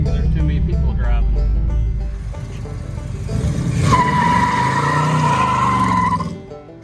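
A loud junkyard Oldsmobile Cutlass engine roars while the tires let out a long, sustained squeal during a burnout that fades as the revving drops off.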